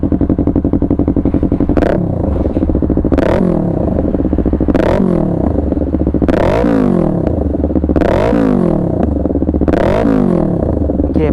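A Yamaha YZF-R3 motorcycle with an aftermarket exhaust idles with a rough, loud, throbbing burble close by, punctuated by about seven sharp throttle blips that rise and quickly fall back.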